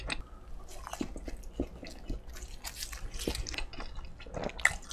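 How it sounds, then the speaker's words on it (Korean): Close-up biting and wet chewing of a Lotteria cheese stick from a fast-food meal, with irregular soft squishy crunches and smacking sounds repeating over a few seconds. "치즈 스틱도 먹어볼게요."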